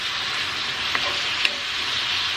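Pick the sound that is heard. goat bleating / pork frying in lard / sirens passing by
pork frying in lard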